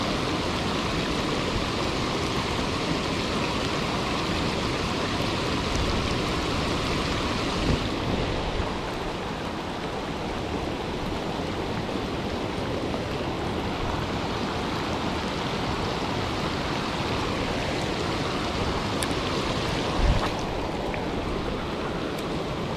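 Rain falls at the Lake Nimrod spillway, a constant loud, broadband hiss blended with rushing water that holds steady for over twenty seconds, with no voices.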